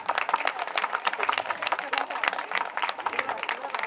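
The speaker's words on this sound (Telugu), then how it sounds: "ఒక్కసారి గట్టిగా చప్పట్లు కొడితే ప్లీజ్" A crowd at a Vasavi Business Group Karthika Vana Bhojanulu gathering claps steadily in honour of the event's sponsor, a dense, even patter of many hands held at a moderate level for several seconds.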